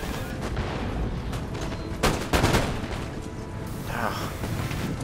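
Musket line volley fire in an Empire: Total War multiplayer battle: a dense, continuous crackle of gunfire with louder bursts in the middle, rolling on throughout the clip.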